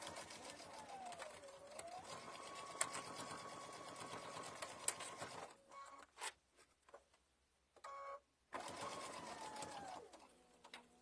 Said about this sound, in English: Sew the 1/4 inch.